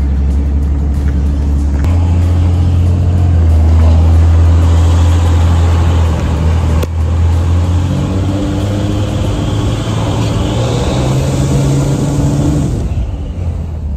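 A 3rd gen Dodge Cummins diesel truck engine warming up, close and loud, with a steady low idle that rises slightly in pitch for a while and then drops off near the end.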